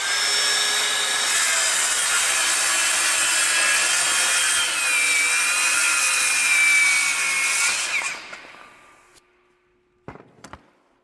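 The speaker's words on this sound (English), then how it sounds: "We'll start now by pressing start on the saw, and it's going to be a bit noisy." A saw with a regular carpenter's blade cuts through an EcoBrik paver in a loud, steady grinding rasp for about eight seconds, then the blade winds down, leaving a few faint clicks and knocks.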